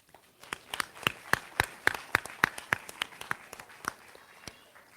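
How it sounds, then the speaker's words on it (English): Scattered, fairly faint clapping from a small group at a graduation, building briefly then thinning out over a few seconds. "I want you to give yourselves a round of applause."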